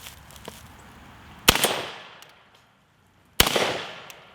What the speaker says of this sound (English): Man, that is a soft shooting 12 gauge.